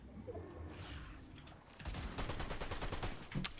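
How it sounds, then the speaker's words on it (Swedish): Rapid video game gunfire in Fortnite, a dense burst of repeated shots that grows louder after a quieter opening and holds steady to the end, with no talk over it. "Hey bro, why are you shooting me bro?"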